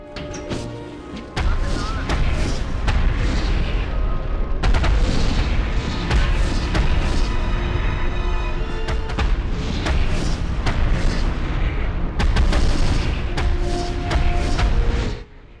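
Repeated explosions from bombs destroying enemy fuel trucks at a German base in Medal of Honor (1999), loud booms and crashes following one another across the span with rumbling debris and game effects.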